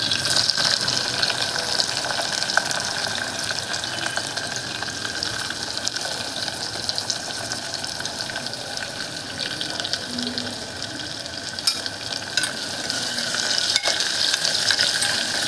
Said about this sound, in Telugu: ఆనియన్ కొంచెం దోరగా వేగే వరకు కొంచెం సేపు వేగనివ్వాలి.